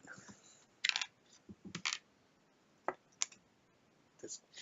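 A deck of Pandemic Legacy Season 2 board game cards being shuffled on a table, heard as a few short riffling bursts and soft card clicks spread across the clip, fairly faint, with no talking.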